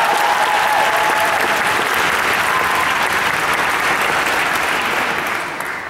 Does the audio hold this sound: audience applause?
yes